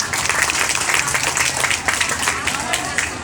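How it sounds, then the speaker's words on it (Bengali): An audience at a prize-giving bursts into a loud, dense round of applause, many hands clapping close and steady throughout with some crowd murmur and voices underneath. "শকাব্দের জন্য একবার জোরে হাততালি হয়ে যায়।"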